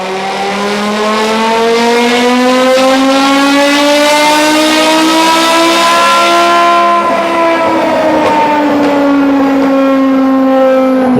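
A BMW M5 with a 5.0-litre V10 revs loudly and continuously, its engine note rising and sweeping in pitch with a dense, high-pitched wail.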